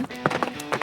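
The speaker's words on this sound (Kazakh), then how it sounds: "Жылқы." A brief burst of quick clip-clop hoof beats, three or four sharp taps in rhythm, close and fairly loud.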